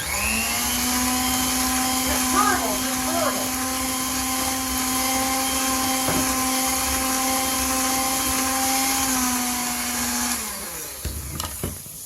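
Electric hand mixer blending lemon cake batter with lemon juice for a lemon supreme bundt cake, a steady loud motor whine running near-constant for about ten seconds before switching off, followed by a few faint clatters.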